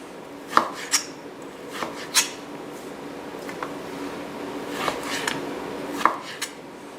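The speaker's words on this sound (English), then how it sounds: "So I'm going to just thin slice it, about 1/4 of an inch thick." A knife thin-slices firm wagyu beef into pieces about a quarter inch thick on a board. Roughly ten crisp, close chopping strikes land at an uneven pace over a faint background hum.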